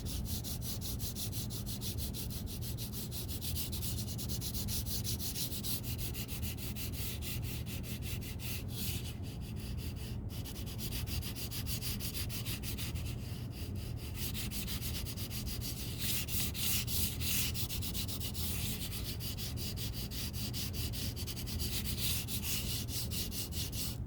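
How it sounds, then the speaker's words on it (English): A crayon turned on its side shades across paper for a sunflower sketch, a soft continuous rubbing and scratching sound in long back-and-forth strokes, quiet and close, with no talking. "I'm going to just turn the crayon on its side."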